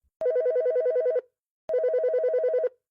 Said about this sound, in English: my phone rang.